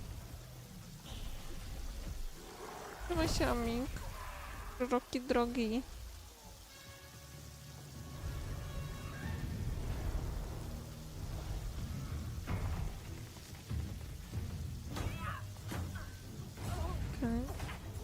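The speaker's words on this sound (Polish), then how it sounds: "To ona właśnie zrobiła deszcz." A video game trailer shown at Gamescom Opening Night Live carries steady rain. A broad hiss runs under dramatic character dialogue, low rumbles and music, with the rain mostly masked beneath the voices.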